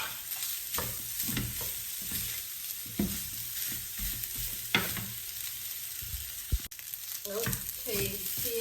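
Fried rice with green onion stir-fries in a hot pan, a constant close sizzle broken by repeated scraping and tossing strokes of a spatula, with one sharp clank near the end.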